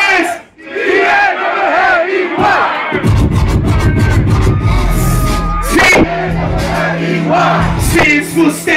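A live concert crowd in a Paris hip-hop show shouts the letter S in loud unison, a big roaring wall of voices with booming bass from the stage underneath, rising and swelling across the clip.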